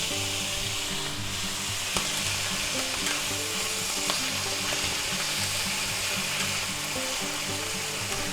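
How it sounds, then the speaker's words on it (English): Two tablespoons of minced garlic sizzling in a pan for spaghetti Alfredo with garlic butter mushrooms, a loud continuous crackling fry held steady throughout, with a couple of faint utensil taps and no voices. "at this point we're going to add our 2 tablespoons of minced garlic."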